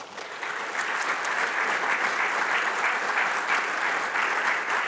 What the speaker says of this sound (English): Please give a big round of applause to the panel.